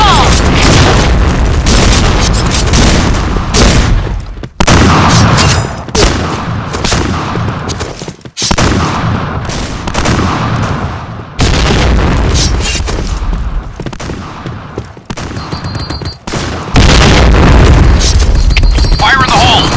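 Grenade blasts from the shooting game Point Blank sound as loud, dense booming bursts separated by brief silences, with a shouted game voice line mixed in.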